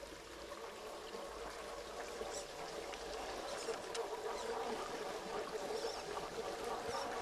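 A creek pouring over a small waterfall in Michigan's Upper Peninsula, a constant rushing wash of water that holds steady, close and unbroken, with no talking.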